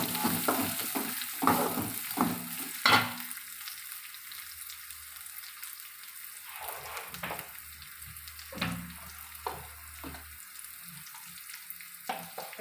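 Onions tipped into a pan of hot oil after mustard seeds and dried red chillies have spluttered, giving a soft steady sizzle with a few stirring scrapes and clatters near the start.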